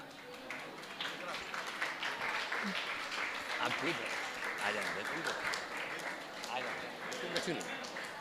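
An audience claps steadily throughout a Jain monk's religious discourse assembly. The dense, sustained applause is mixed with voices and crowd murmur and stays level until the end.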